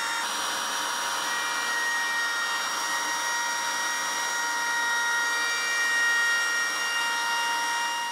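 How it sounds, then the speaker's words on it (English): A router with a profile bit cuts outlines into fibrous wood for a carved star, producing a steady high-pitched whine with a continuous rushing cutting noise and no speech. "Sometimes the wood grain pulls the router from side to side, making straight lines difficult."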